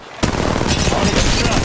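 Rapid automatic gunfire in Apex Legends breaks out after a brief quiet moment and holds as a loud, dense, sustained burst of shots until the end.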